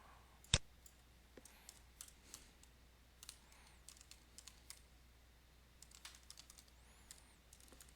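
Personal details are typed on a computer keyboard, a quiet run of scattered, irregular key clicks led by one sharp louder tap, close and alone with no talking.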